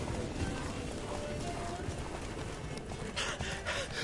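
Horse hooves clip-clopping at a run in The Witcher 3 video game, a steady rhythmic patter mixed under game music and a voice talking throughout.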